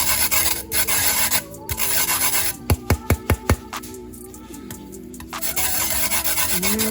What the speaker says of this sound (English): Time to zest my